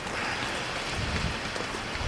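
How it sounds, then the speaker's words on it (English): Heavy rain pours steadily in Italy at about seven degrees during a motorbike trip, a dense, even hiss of drops on surfaces filling the whole stretch with no voices. "It's pouring rain."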